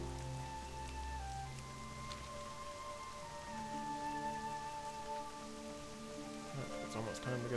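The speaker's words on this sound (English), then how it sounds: "Oh, now it's raining outside." Steady rain in the game World of Warcraft patters through the whole stretch beneath a layered ambient music bed, with a voice speaking over it now and then.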